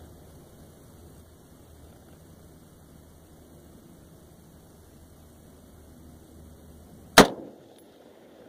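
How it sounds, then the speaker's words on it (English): A single loud, sharp gunshot fired into real ballistic gelatin cracks out once near the end, after several seconds of quiet background hum, with a short decaying tail. "Then we're going to show the first shot into the real ballistic gelatin."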